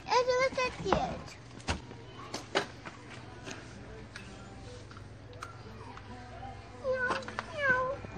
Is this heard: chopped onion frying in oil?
no